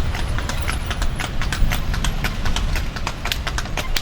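Hooves of a horse pulling a cart clip-clop in a quick, steady rhythm on a hard road, close by, with a low rumbling background throughout.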